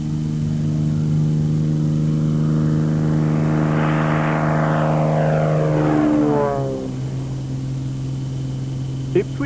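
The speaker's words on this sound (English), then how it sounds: "The single-engined Piper Saratoga flies from Ipswich to Budapest non-stop, cruising at about 170 miles an hour." A single-engined Piper Saratoga propeller plane passes in flight, its steady loud drone holding for several seconds before the pitch drops and the engine fades away.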